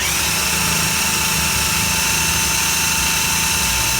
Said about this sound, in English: I am using the impact wrench just for speed